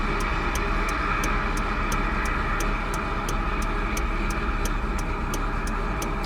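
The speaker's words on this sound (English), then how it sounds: "The choke's not on right now. You can tell by the rougher idle." A car engine idles roughly with the choke off, a steady low rumble beneath a sharp regular ticking that repeats about three times per second, close and unbroken throughout.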